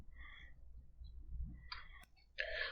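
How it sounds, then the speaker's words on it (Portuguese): A single sharp computer mouse click while working in a spreadsheet, a brief crisp tick near the end amid faint background hum and a few soft tonal blips. "Basta clicar em cima."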